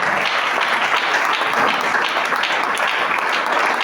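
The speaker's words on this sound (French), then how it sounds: "Si on peut acclamer très fort le Seigneur, ça va m'encourager" A church congregation applauding loudly and steadily, dense clapping filling the whole space without pause, with a few voices mixed in.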